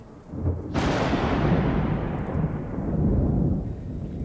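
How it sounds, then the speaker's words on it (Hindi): Deep thunder rolls in suddenly after a brief quiet moment, then keeps rumbling loud and sustained for several seconds with no voices over it. "पुत्र, क्या तुमने ये गरज सुनी?"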